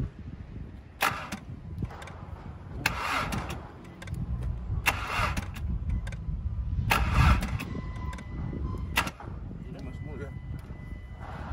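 An engine cranks repeatedly in short bursts without catching, with pauses between attempts and voices talking nearby.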